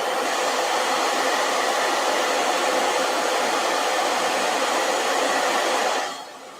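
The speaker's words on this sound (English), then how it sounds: "Let me hit this with a blow dryer before I set it down." A handheld blow dryer runs at a loud, steady hiss for about six seconds before shutting off and leaving a quieter room tone, with no voices.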